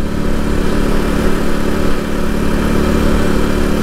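A Suzuki DR200 motorcycle rides along a highway, its single-cylinder engine droning loud and steady with a rough, buzzing tone and wind rush, no voices.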